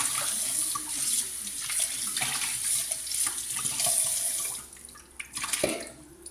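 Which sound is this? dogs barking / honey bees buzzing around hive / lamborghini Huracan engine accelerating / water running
water running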